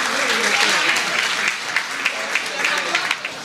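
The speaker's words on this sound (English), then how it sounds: "give everyone a round of applause" A crowd applauds steadily, sustained clapping filling the space with a few sharper claps standing out near the end.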